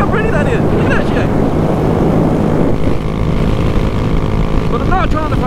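A Honda Grom motorcycle engine revs and accelerates up close, a loud continuous buzzing drone with rising pitch sweeps near the start and end.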